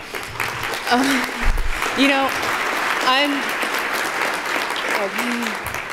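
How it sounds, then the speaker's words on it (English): An audience at a Reston community awards event claps steadily for the speaker's mother, a broad wash of applause with a voice speaking over it. "thank you for clapping for my mom"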